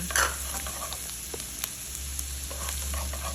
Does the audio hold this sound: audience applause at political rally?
no